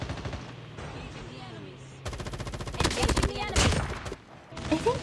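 Rapid automatic gunfire in the mobile shooter Call of Duty Mobile, Battle Royale mode, crackles in dense loud bursts, swelling over the second half, with a player talking over the shots.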